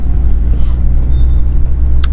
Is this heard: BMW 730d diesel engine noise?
yes